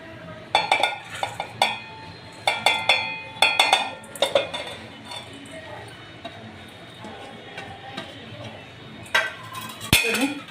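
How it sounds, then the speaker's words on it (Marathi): Chopped capsicum, cabbage and onion are scraped into a pot in a home kitchen, giving bursts of clinking and knocking of a utensil against the vessel, loud and close, with pauses and a final clatter. "आता आपण हे सगळं मी एका भांड्यात काढून घेते"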